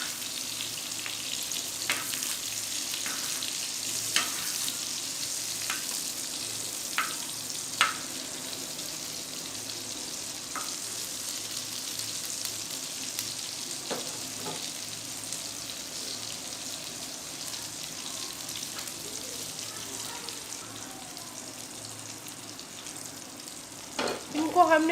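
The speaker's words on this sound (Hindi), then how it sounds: "ये देखिए ये हमारे मज़ेदार से रेशमी कबाब फ्राई हो रहे हैं" Reshmi kababs fry in oil in a pan over medium heat, giving a steady close sizzle with scattered light spatters and occasional utensil taps, ending in a few louder clinks.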